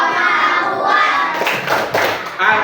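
Rhythmic hand clapping in quick bursts, close and fairly loud, mixed with children's voices chanting along.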